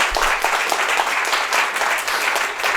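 Audience applause at a Danish Design Review Rising Stars event at Parsons The New School for Design, steady dense clapping from a crowd that fills the whole stretch at an even level.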